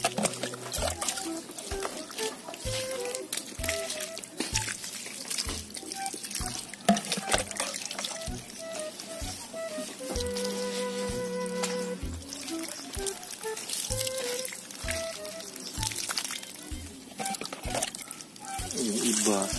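Water is poured over newly planted red banana plants in a home garden, a steady splashing trickle running through most of the stretch while someone talks over it.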